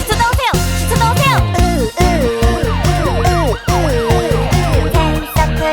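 A police car siren effect wails in a Japanese children's song, rising and falling sweeps repeating over a bouncy, loud musical backing.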